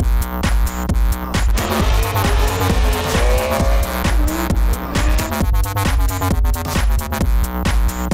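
A drift car is yanked into a drift with the handbrake at night, its engine roaring loud and close while the tires squeal in long sustained wails, with no talking.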